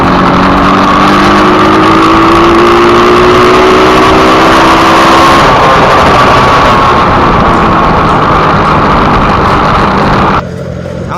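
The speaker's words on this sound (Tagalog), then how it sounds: "Naririnig niyo yung RPM niya, 'di ba? Ang taas nang nare-reach niya ngayon na RPM." A TMX-type pushrod motorcycle engine with a ported and polished cylinder head revs hard and loud at high RPM, holding a sustained buzzing roar with rising pitch sweeps before dropping off near the end.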